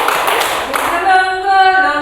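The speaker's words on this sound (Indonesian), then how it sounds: "Dibuka tutup, tepuk tangan lagi" A group claps hands in quick unison for about a second during a classroom song activity, then the clapping gives way to sustained sung or hummed tones.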